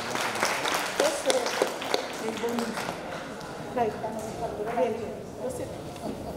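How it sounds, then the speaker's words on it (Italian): Audience applause on a live television variety show, a brisk patter of clapping hands that is strongest at the start and then thins, with people talking over it. "Un applauso veramente bravissimi sono stati"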